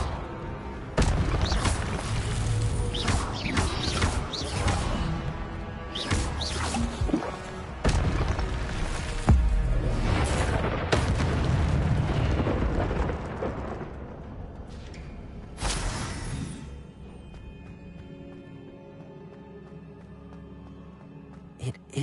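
An Incendio fire spell blasting in Hogwarts Legacy, with heavy booming impacts and crashing bursts repeating over about fifteen seconds. The blasts then fade into a quieter, lingering rumble.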